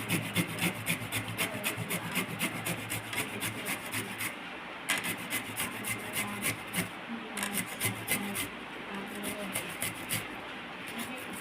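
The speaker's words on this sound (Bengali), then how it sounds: "ভালো করে ঘষে নিচ্ছি।" Fresh ginger rubbed hard against a grater in a home kitchen while making soybean curry, a steady run of rapid rasping strokes heard close up and alone.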